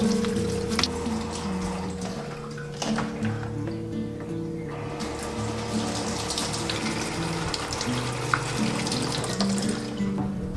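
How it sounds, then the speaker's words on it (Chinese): A mud crab being scrubbed clean with a brush under a running tap: steady, close water flow splashing in a sink, with brushing and handling noises mixed in and no talk. "接着用毛刷给它擦洗干净"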